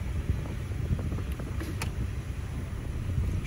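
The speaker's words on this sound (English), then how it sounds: "Okay, so with the engine running," A 2016-2022 Honda HR-V with a CVT idles steadily close by, giving a continuous low rumble with some windy, broadband noise over it and no talking.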